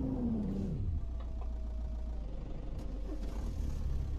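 Weak car engine in a driving video game, a thin mid-pitched whir that drops at first, then hums and revs unevenly with light clatter, heard alone without talk.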